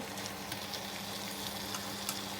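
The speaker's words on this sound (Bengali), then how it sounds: "খুব ভালোভাবে মিক্স হয়ে গেলে এরপরে আমি চিকেনগুলো দিয়ে দিচ্ছি" Steady sizzling of chicken pieces frying in a spice mix in a hot pan, a continuous crackling hiss with occasional small pops, close by and without any talking.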